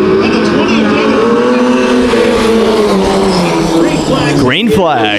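Race cars launch into a heat race on a green flag, engines rising in a loud, rough roar with a fast pitch sweep near the end as one passes close, under a commentator's voice.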